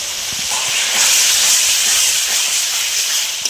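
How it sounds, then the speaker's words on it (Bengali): Spices sizzle loudly and steadily in a pan with ginger, garlic, tomato paste and turmeric for a chicken chana masala, a close, continuous frying hiss with no break. "মশলা ভালো করে কষিয়ে নেব"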